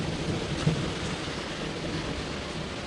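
Steady rain pours in a Beijing street, a continuous broadband wash with a low thunder rumble rolling underneath and one brief louder thump early on, no voices.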